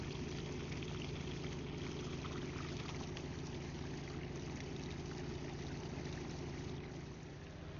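Steady rush of water pouring from a farm irrigation pipe, a constant loud flow with a low hum beneath it, unbroken for the whole stretch and with no voices.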